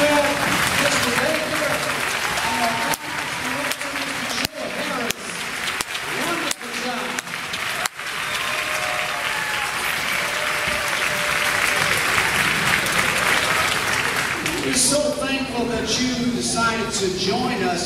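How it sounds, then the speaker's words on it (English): An audience at a school grandparents' day musical program applauds music and theater teachers, sustained loud clapping from a full crowd, with a speaker's voice over it near the start and again toward the end. "I also want to give our music teachers and our theater teachers a round of applause"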